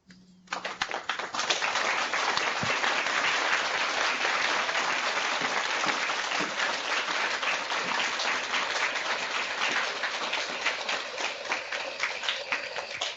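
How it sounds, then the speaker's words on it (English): Warm applause from schools joining an online session for a Pro Football Hall of Famer: after a brief quiet start, a sustained, fairly loud roll of many claps continues evenly throughout, with no talk. "join me in giving a warm round of applause to Pro Football Hall of Famer, Mr. Tom Mack"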